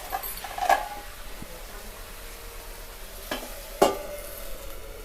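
Spice paste sizzles as it is fried in a pan for a prawn and cabbage curry, a low steady hiss broken by a few sharp clatters of a spoon or lid, with no talking.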